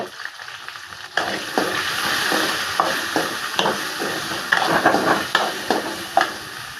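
Spices, including turmeric powder, sizzle and crackle in hot oil on a low flame, a steady frying hiss with intermittent sharp pops and stirring scrapes, close by and fairly loud.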